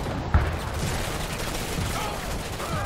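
Gunfire from units under attack in the strategy video game Tiberium Wars, a steady crackle of overlapping shots opening with a sharp louder report, continuing at moderate level.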